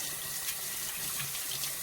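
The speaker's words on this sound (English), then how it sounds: "I'm going to go over here to my sink, and I'm going to turn on the hot water" Hot water runs steadily from a kitchen sink faucet, a continuous close hiss of flowing water with no talking.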